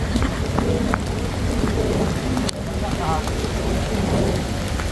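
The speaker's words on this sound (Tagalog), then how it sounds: "So, lumakas yung ulan" Heavy rain pours steadily in a botanical garden while thunder rumbles, loud and close, with a sharp crack midway through the downpour and faint voices beneath.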